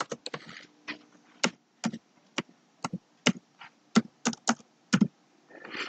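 A password is typed on a computer keyboard, about fifteen crisp separate keystrokes tapped at an uneven pace, close and clear against near silence.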